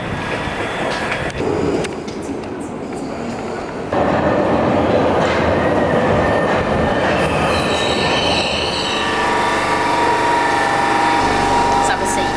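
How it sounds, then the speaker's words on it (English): Glasgow subway train running underground, a loud continuous rattling roar with wheels squealing on the rails, rising as it gathers speed, and people talking over it. "So we're heading down to the subway now."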